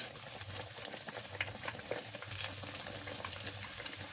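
Pork belly skin crackles in hot oil as it fries until crisp, a faint steady bubbling sizzle with light scattered pops, with no voices.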